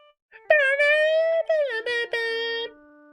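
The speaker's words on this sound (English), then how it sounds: "All of a sudden, the phone began to ring." A cell phone rings in the Phoenix Wright: Ace Attorney – Justice for All video game, with a bright electronic melody of sustained tones that shift in pitch, loud and close, with no talking over it.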